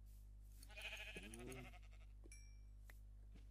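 Sheep bleating in a modded Minecraft game, a couple of wavering bleats close and clear over a steady low electrical hum, followed by a few faint clicks.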